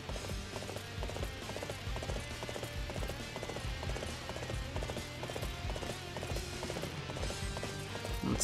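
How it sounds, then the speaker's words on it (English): Galloping horse hoofbeats in the video game Dynasty Warriors 8, a steady rapid clatter that runs throughout under a dense, busy game soundtrack. "Alright, let's get on our horse."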